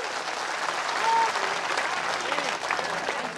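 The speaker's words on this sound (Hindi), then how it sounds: "ताली बजा सकते हैं आप लोग।" A crowd at an outdoor Hindu religious darbar gathering in a village claps in a soft, diffuse wash of applause that carries on steadily throughout, with faint voices mixed in.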